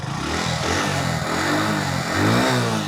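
A Hero Splendor E85 flex-fuel motorcycle or Honda Shine 100 DX engine revs steadily under throttle, a continuous close, loud mid-pitched drone that swells slightly toward the end, with no talk.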